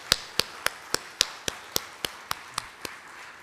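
Thanks are given by clapping at a joint Methodist revival service in a church. Sharp, evenly spaced claps sound nearby, as if from one person. They are fairly quiet, with little crowd sound behind them.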